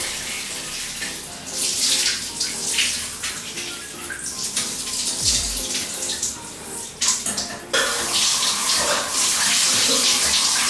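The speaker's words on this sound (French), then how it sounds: "là je vais prendre une douche. Et une douche bien froide." A cold shower runs in a steady loud hiss of spraying water, close by, with shifting splashes as the stream hits the body and floor, no talk.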